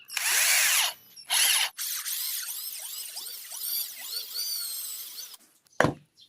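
An electric drill bores into a broken umbrella handle: two short whirring bursts, then a longer run with the motor pitch rising and falling under load, and a brief final spin, close and clear.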